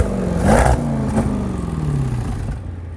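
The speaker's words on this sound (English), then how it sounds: "Let me give you some revs." A Range Rover SVR with a supercharged 5-litre V8 revs up close by, a loud throaty blip rising and then settling back into a rumbling idle that fades toward the end.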